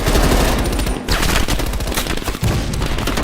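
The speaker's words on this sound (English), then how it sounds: "Heavy MG on the ridge." Heavy machine gun fire from the Vietnam-era Call of Duty Black Ops rice fields mission rattles in loud, dense, continuous bursts with echoing booms, broken by a couple of brief pauses.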